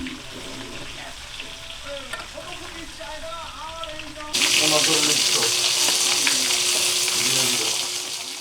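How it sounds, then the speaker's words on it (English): Hot oil sizzles and crackles, starting moderately under some background sounds, then jumping to a loud, dense spattering hiss when fish hits the pan. "The fish he bought earlier is now sizzling in hot oil."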